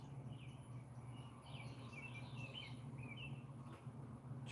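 Faint bird chirps and tweets scatter across a quiet outdoor background, with a soft insect-like hum running beneath them.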